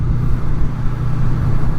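A camper van rumbles past on a narrow country road, a loud, close, low vehicle drone that swells slightly as it goes by, heard over steady engine and road noise with no voices.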